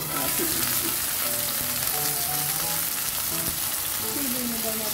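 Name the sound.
garlic frying in a pan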